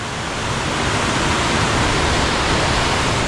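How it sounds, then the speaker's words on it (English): A creek cascading over rocks makes a loud, steady, broadband rush of water that stays close and constant throughout, with no voices. "we're enjoying the beautiful cascades of the creek right here"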